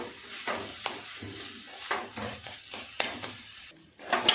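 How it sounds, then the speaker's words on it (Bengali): Potato, chicken and spices stir-fried together over low gas for a chicken paratha filling: a soft steady sizzle broken by repeated scraping strokes of a spoon against the pan, close and moderate in level. "আলু, চিকেন, সমস্ত মশলা একসাথে এইভাবে কষতে কষতে পুরটাকে বানিয়ে নেব।"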